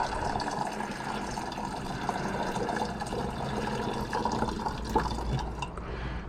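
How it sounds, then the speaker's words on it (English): Water pours steadily out of a gold recovery container for several seconds, a continuous splashing trickle with small drips, close and moderately loud with no talking. "and pour out the water."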